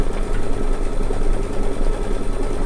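A sewing machine stitches appliqué onto turquoise fabric with a dense, even mechanical rattle and hum. It is close and constant, with no voices.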